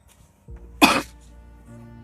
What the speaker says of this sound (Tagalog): ubo pa si ate